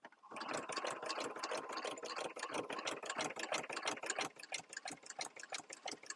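A sewing machine fitted with a ruffler attachment stitches steadily at speed, a dense fast rhythmic clatter of needle strokes and whirring motor, close and continuous with no voices.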